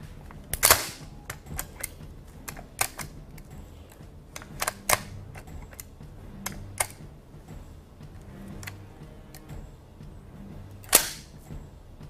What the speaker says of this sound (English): you can actually pump fire these where you, between each shot, pump the action